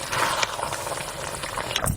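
Mutton with tomatoes and onions simmering in a pan as released juices bubble, a dense continuous sizzling and bubbling hiss, close and steady with small pops.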